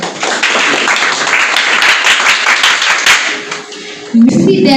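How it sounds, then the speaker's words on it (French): An audience claps at a ceremony for a Haitian educational club's book competition, a lively patter of many hands that thins near the end before a louder, different sound cuts in. "je vous demande également de vous applaudir parce que vous êtes les bienvenus chez nous"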